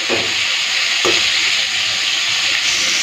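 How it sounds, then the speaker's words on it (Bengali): Shrimp and ridge gourd fry in hot oil with a little turmeric. A steady loud sizzle runs throughout, broken by a couple of brief stirring scrapes, with no talking. "এখন দেবো চিংড়ি মাছ আর সামান্য একটুখানি হলুদ দেবো"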